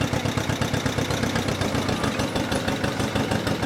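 A tractor engine runs steadily while being driven, a continuous low mechanical chug with a regular pulsing rhythm, close and moderately loud with no talking.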